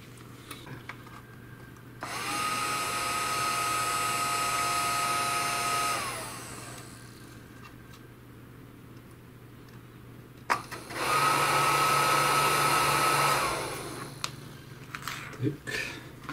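A MAMIBOT robot vacuum cleaner runs without its noise-absorbing filter, giving two loud whirring bursts that each last a few seconds with a steady high whine, separated by quiet handling clicks in a room.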